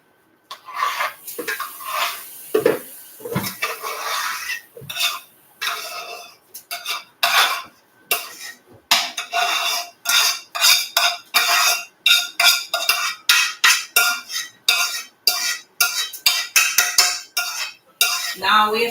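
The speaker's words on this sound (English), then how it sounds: "I'm just going to transfer this to my mixing bowl" Cooked breadfruit being scraped from a pot into a mixing bowl and mashed, with repeated close metal-on-bowl clinks and scrapes in an uneven rhythm that quicken toward the end.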